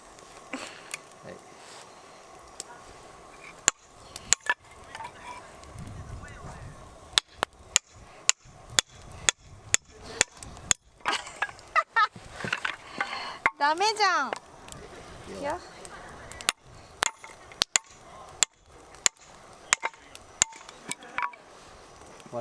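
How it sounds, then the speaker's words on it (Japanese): A hammer taps on a Sanzoku Mountain ooyaki mouncol fire pit outdoors, giving sharp, irregular metallic clicks and knocks, some close and loud, with people talking in between. "そこでハンマーでカチカチやってごらん。"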